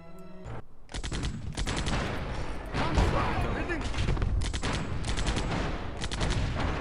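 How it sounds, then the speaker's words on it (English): Machine gun fire in Civilization 4: dense, sustained rattling bursts that run almost the whole time after a short quiet opening, loud and continuous with crashing battle noise layered in. "Machine guns."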